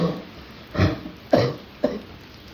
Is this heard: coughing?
yes